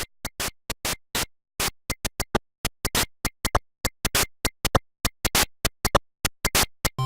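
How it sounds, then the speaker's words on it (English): Static-like noise channel of a retro video game console playing rhythmic bursts of hissing white noise, short and longer hits in a drum-like pattern, alone. "The fourth channel could only produce noise, similar to that of static on a TV screen."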